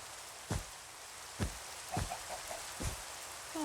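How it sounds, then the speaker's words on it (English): Rain falls steadily in Minecraft as a constant soft hiss, broken by a few sharp, louder taps spaced roughly a second apart and some faint chirpy sounds near the end. "It's going to lovely rain now."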